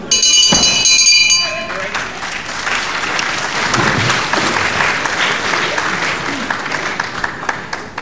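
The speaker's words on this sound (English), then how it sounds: "the very fair crowd here at the Cliffs Pavilion, West Cliff on Sea, really giving Hassouni applause when he does something very well" A fair-minded wrestling crowd at the Cliffs Pavilion, Westcliff-on-Sea, applauds loudly and steadily in the hall, with a brief electronic tone at the start before the clapping settles into a sustained roar.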